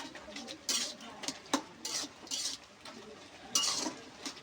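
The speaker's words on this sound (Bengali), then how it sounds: "এবার কচুটা ঘুরতে হবে বন্ধুরা" Taro stems being turned and stirred in a pan, heard as repeated bursts of scraping and rustling with a sharp utensil knock in between, fairly quiet and without talk.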